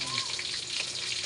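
Alokbati and saluyot leaves hit a pan of frying fish, giving a loud, dense sizzle with crackling and spattering that runs continuously, with no voices over it.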